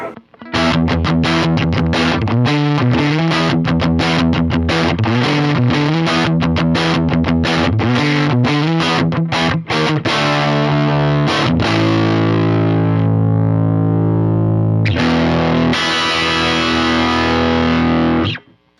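Telecaster electric guitar played through an overdriven Marshall Class 5 tube amp, a run of quick picked notes and chords with a bright, twangy edge, then sustained strummed chords ringing out.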